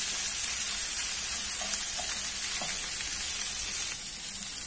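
Broccoli sizzles as it is stir-fried in a hot pan, with a constant bright crackling hiss and faint stirring clinks and no talk.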